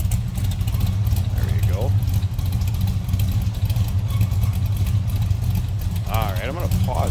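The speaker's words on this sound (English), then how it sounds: "A little rumble coming out of that 340." A 1975 Dodge Dart with a 340 V8 and mild cam idles close by, its steady low rumble running throughout while someone talks briefly over it.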